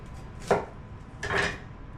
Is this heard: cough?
no